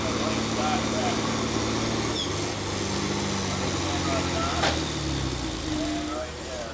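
A stock John Deere 4320 tractor engine drones steadily at a truck and tractor pull, a loud continuous rumble with crowd noise and the outdoor event atmosphere mixed in throughout.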